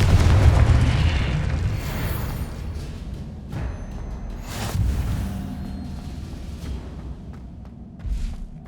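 The Confringo spell in Hogwarts Legacy goes off as a loud booming explosion with a whooshing burst, followed by rumbling debris and a few smaller pops that fade out.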